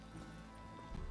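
Roach the horse's hooves in The Witcher 3 video game, a steady close clip-clop of hoofbeats over a dense bed of in-game ambience, with a heavier thud near the end.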